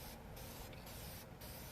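A spray paint can hisses in short bursts while coating engine parts from a diesel engine. Three brief sprays come at a steady pace over a constant background rush.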